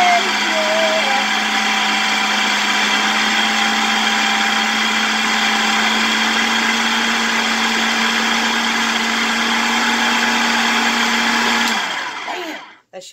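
A blender or mixer whirs steadily and loudly for about twelve seconds through a black bean burger mixture, then winds down and stops abruptly.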